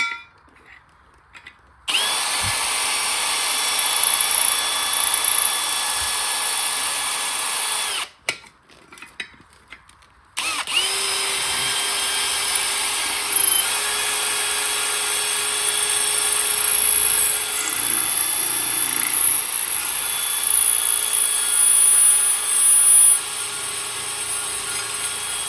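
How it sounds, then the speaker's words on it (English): A power drill fitted with a sharp bit runs at steady speed, boring into sill and A-pillar metal; the whine holds nearly continuously for long stretches, broken by a couple of brief pauses. "I got a nice sharp drill bit."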